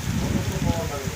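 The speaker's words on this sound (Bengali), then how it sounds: "প্রচুর বৃষ্টি হচ্ছে" Heavy rain pours down outdoors near a pond in a dense, continuous wash of patter that stays loud and even throughout the short stretch.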